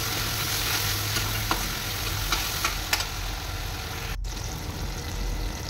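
Jackfruit sizzles steadily in a hot pan with salt and turmeric, a close continuous frying hiss with a few soft stirring clicks and taps.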